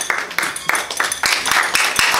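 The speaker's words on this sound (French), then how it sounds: "Applaudissez pour le best man." Wedding guests clap for the best man at a reception, a close, scattered patter of hands with sharp individual claps breaking through over about two seconds.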